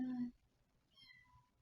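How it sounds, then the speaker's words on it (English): Kittens meow outside a door, faint high calls a short distance away. A brief voice is heard at the start, followed by mostly quiet. "That's the kittens outside."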